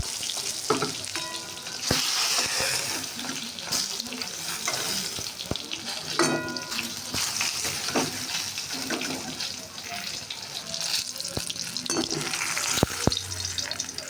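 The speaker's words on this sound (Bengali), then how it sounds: "বেগুনটা আমার ভাজা হয়ে গেছে" Brinjal sizzles and crackles in oil while it is stirred, with occasional clinks and some running water nearby.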